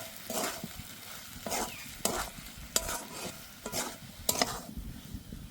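Grated potatoes are mixed with loate fish by hand or spoon in a bowl for chop, giving repeated wet squelching strokes and soft scraping in a loose rhythm, close and clear with no talk.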